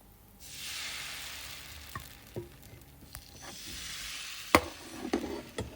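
Patishapta pitha batter poured into a hot pan hisses into a steady sizzle, with a few light utensil taps and scrapes scattered over it, close and moderately quiet, no talking.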